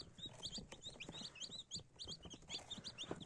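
A big box of newly hatched baby chicks chirps nonstop, a dense chorus of high, rapid peeps from many birds close by, faint and busy with light shuffling beneath.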